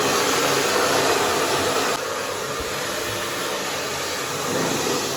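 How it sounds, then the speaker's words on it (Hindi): A blower dryer blasts dust out from inside a home appliance during cleaning, a loud steady rushing airflow that drops slightly in level partway through and continues without pause. "इसके अंदर जितना भी डस्ट है मैं इसे ड्रायर मारूंगा और ड्रायर से जितने छोटे मोटे डस्ट है सारे बाहर निकालूंगा"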